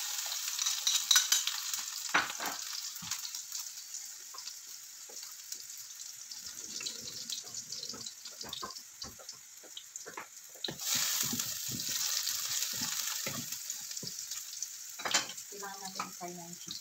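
Garlic and chicken sizzle in butter in a pan with a bright, continuous frying hiss, interrupted by stirring clinks and a brief burst of louder crackling midway.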